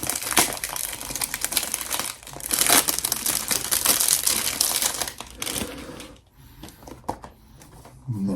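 Cardboard packaging on a Gisada Ambassador for Men perfume box is torn open up close, with loud crinkling and ripping for several seconds before it drops to quieter scraping.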